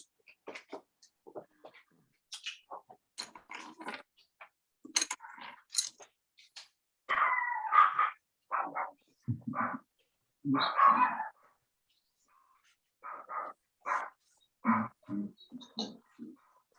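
A dog barks repeatedly in irregular bursts, some short yips and some longer, rougher barks, fairly close with brief pauses between.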